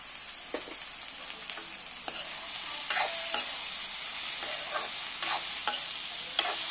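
Bottle gourd with turmeric frying in a pan, a steady high sizzle broken by repeated scraping clicks of a stirring spoon, close and alone.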